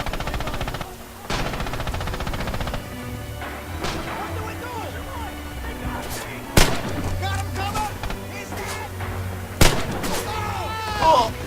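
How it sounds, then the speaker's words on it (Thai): Repeated blasts and sharp gunfire crack through a Red Orchestra 2 battlefield, with heavy impacts landing near the six- and ten-second marks over a constant low rumble, while players talk throughout. "พวกนั้นก็สั่งระเบิดมาถล่ม"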